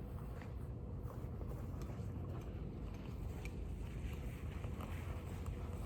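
Steady, broadband wind rushes outdoors and buffets the microphone, forming a continuous low roar that holds at a faint, even level with no talk.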